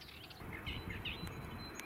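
A brown thrasher, a mimic songbird, sings short varied phrases in a spring sanctuary, moderately distant and fairly soft over a low background hum.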